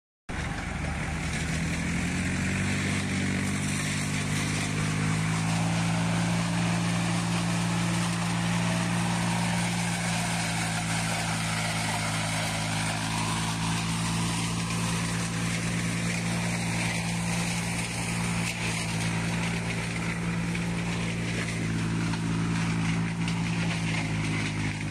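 A tractor's engine runs steadily during garden landscaping work, a constant loud low drone with an even hum that holds without break for the whole stretch, no voices over it.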